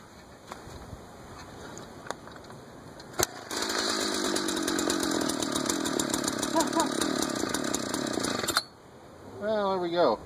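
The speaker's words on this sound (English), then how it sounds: "I'm just going to try drilling a few holes." A power drill driving an ice auger through a 3D-printed PETG adapter whines steadily at high speed for about five seconds, then cuts off abruptly as the part breaks, leaving quiet handling sounds and a brief squeak.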